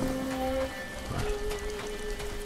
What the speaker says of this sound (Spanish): se pone a llover